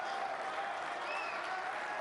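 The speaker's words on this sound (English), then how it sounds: "They're getting good applause here ahead of the decider." At the Saudi Arabia Snooker Masters final, the audience applauds steadily ahead of the deciding frame, a continuous even patter of clapping at moderate distance with no pauses.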